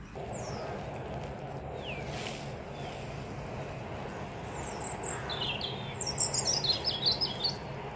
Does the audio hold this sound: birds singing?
yes